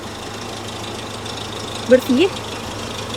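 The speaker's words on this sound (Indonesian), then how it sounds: "di sini mesin sudah dinyalakan untuk suara mesin normal" A Nissan Terrano engine idles in normal condition, a steady low hum held throughout, while someone speaks briefly over it.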